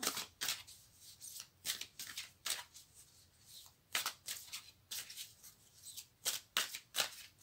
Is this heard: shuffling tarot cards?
yes